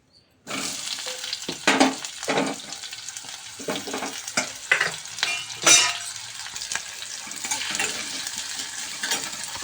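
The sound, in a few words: onions frying in a pan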